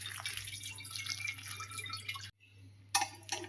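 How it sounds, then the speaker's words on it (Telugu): Cool water pours over boiled meal maker soya chunks sitting in a strainer, a soft, quiet splashing and dripping that stops briefly, then resumes with a few louder spatters. "ఉడికించిన మిల్ మేకర్ని ఇంకా మెత్తగా కాకుండా కొంచెం కూల్ వాటర్ పోసుకోవాలి"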